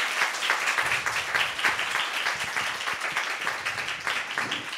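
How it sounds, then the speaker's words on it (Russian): Steady applause from a lecture audience at an open talk in Minsk, a dense even patter of many hands clapping throughout, fairly close and unbroken. "Да, аплодисменты."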